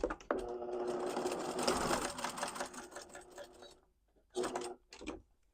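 Sewing machine stitching around three sides of tote bag pocket pieces runs in a steady, close whirring burst, then stops and gives two short stitching spurts.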